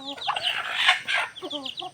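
Chickens cluck and squawk close by in a busy, overlapping chorus of short calls.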